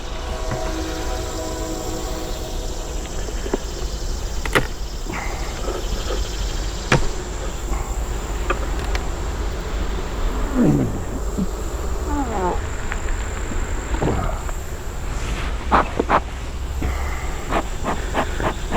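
Honey bees hum steadily around an opened hive during a mite check, a dense continuous drone with a few sharper buzzes passing close by, and no talking.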